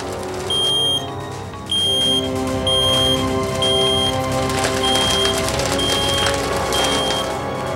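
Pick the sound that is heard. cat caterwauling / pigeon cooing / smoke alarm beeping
smoke alarm beeping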